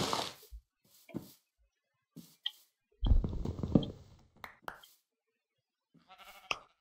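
Sheep bleat in Minecraft, several short separate calls spaced through near-silence, with a denser louder burst of bleating in the middle.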